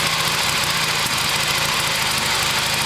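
A homemade 1972 Harley-Davidson XLH motorcycle engine runs unevenly with a poorly adjusted carburetor, giving a steady, close, loud idling rumble with a rough vibrating texture and no talk over it.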